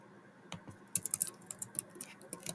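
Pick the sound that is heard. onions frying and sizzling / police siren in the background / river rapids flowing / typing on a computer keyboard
typing on a computer keyboard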